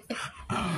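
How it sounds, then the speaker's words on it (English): Dogs at home giving short yips and whimpering barks, two close bursts with a rising whine, loud and near, with no talk over them. "the dogs are going to start barking"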